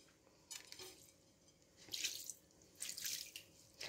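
Cold water poured into a bowl and stirred while preparing Moroccan chicken seffa, a few short splashing bursts over quiet background, near and fairly faint, with no talk.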